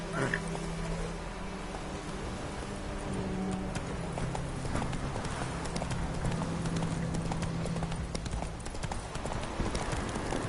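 Horse hooves clip-clopping at a steady galloping rhythm in The Witcher 3 video game, loud and continuous over a broad rumbling bed of ambient noise.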